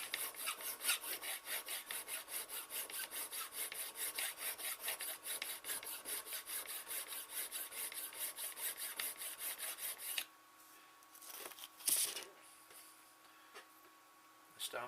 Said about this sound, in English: So let's file some more.